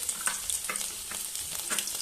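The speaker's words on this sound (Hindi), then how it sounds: "ऑयल हमारा गर्म हो चुका है तो यहाँ पे मैं लहसुन और अदरक इस्तेमाल करूँगी" About eight cloves of garlic and a one-inch piece of ginger fry in hot oil for a sarson ka saag tempering, giving a steady, close sizzle with rhythmic crackling pulses as they are stirred.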